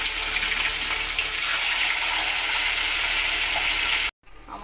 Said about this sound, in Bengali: আমার মাছের মাথাগুলো সব ভাজা হয়ে গেছে